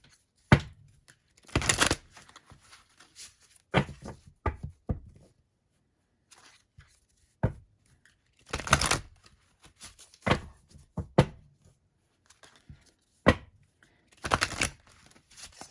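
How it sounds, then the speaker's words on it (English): A new tarot deck being shuffled by hand, short bursts of riffling and flicking cards separated by pauses, close and fairly quiet, with no talk. "Being a new deck, you really have to shuffle really, really good initially to get them really shuffled in well."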